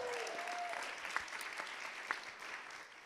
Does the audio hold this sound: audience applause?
yes